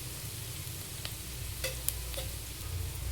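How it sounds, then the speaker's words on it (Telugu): Onion pieces fry in a pan toward golden brown, a soft continuous sizzle with a few faint clicks of a utensil, fairly quiet and with no talking. "ఉల్లిపాయ ముక్కలన్నీ కొంచెం బంగారు కలర్లో వచ్చే వరకు వేయించుకోవాలి, బ్రౌన్ కలర్ వచ్చే వరకు."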